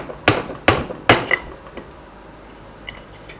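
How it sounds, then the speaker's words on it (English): Three sharp light taps from a hammer handle strike a Rotax engine housing in close succession, followed by a few fainter knocks and quiet workshop background. "just a small tap, normally just with the handle of the hammer, will be sufficient"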